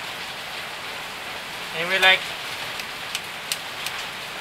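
Rain falls in a steady, soft hiss with a few sharper drops, while a person briefly speaks over it partway through.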